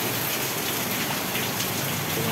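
Heavy rain pours steadily as rainwater floods into a house, a dense, continuous hiss of falling drops and running water close by, with no voices.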